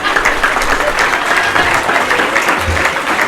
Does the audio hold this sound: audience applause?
yes